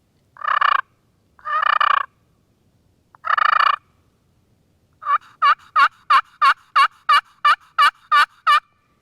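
Three short scratchy yelps from a bead-blasted glass turkey pot call, then a rapid run of about ten sharp clucking purr notes, loud and close with no talk.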